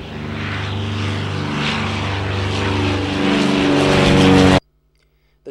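A propeller airplane carrying transferred prisoners in Martinique drones loudly and close, its engine tone steady then rising before cutting off abruptly near the end.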